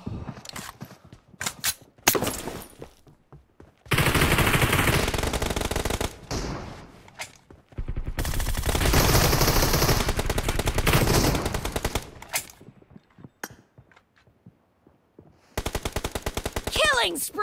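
Video game gunfire in BGMI: bursts of rapid automatic fire in several long stretches, separated by quieter gaps with faint footsteps and brief game voice callouts.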